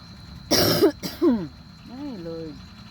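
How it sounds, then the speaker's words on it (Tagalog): A woman coughs and clears her throat in a short burst, then talks briefly nearby while folding clothes at home. "ubo pa ko."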